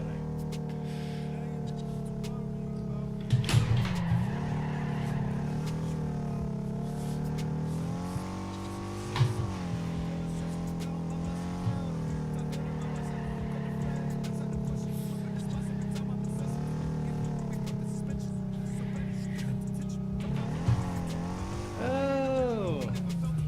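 Car engine in Torque Drift 2 drifting practice, a sustained droning rev that rises and falls through gear changes, with squealing tires near the end, close and steady while someone talks over it.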